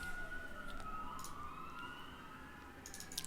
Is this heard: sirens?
yes